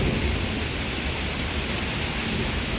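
Low rumbling thunder rolls beneath a steady roar of heavy rain and gusting wind during a severe thunderstorm under a tornado watch, the noise dense and unbroken throughout with no voices.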